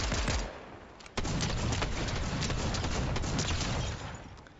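Rapid bursts of submachine gun fire in a battle royale shooter, dense and continuous after a brief lull, close and loud with sharp transients throughout.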